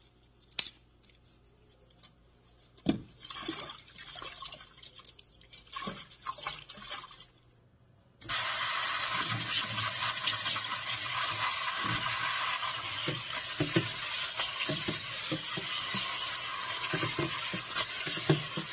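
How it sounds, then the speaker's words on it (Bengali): Dandelion greens are handled and washed, with rustling and splashing at first, a short pause, then a loud continuous rush of running water to the end. "শাকটাকে খুবই ভালো করে ধুতে হবে"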